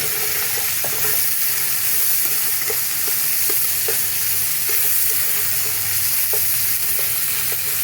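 Chopped green chillies fry in a pan for doi potol, giving a steady, moderately loud sizzle with faint occasional stirring clicks and no talking.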